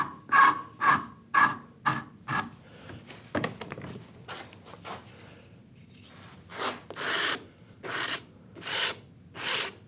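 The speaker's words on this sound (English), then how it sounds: "Back in the vise, just to clean up with the flat file onto that top edge." A flat file rasps across the top edge of a metal router plane part held in a vise, steady strokes close up in uneven rhythm with short pauses between passes.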